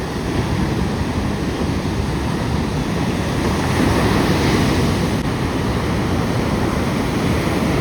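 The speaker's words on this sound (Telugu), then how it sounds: "బాబా, అల్లలు చూడండి ఎంత పెద్ద పెద్ద అల్లలు వస్తున్నాయి అసలు." Big sea waves surge at Vizag beach in rainy weather, a loud continuous roar of surf mixed with wind buffeting the microphone, with no talking.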